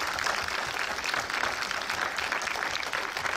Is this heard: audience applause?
yes